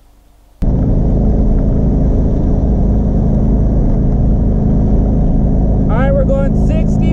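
A car fitted with a swapped TH400 automatic transmission cruises at 65 mph. After a brief quiet opening, a loud, steady road-and-engine roar fills the cabin, and a voice is heard briefly near the end.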